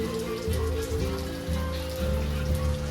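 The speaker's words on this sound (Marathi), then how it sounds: "तुम्ही बघू शकता किती पाऊस पडतोय बघा" Heavy rain pours down outdoors in a dense, continuous hiss of drops hitting surfaces, loud and steady throughout, with a faint low hum underneath.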